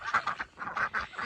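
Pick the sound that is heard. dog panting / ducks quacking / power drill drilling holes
ducks quacking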